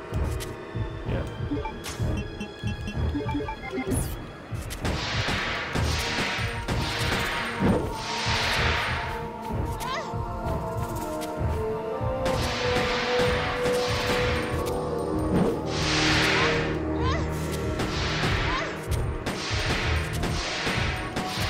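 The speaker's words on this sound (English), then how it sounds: "I'm probably wasting all my sniper shots here." Sniper rifle shots in Resident Evil Code Veronica during the Nosferatu boss fight, loud cracking blasts repeating every second or two with crashes and impacts between them.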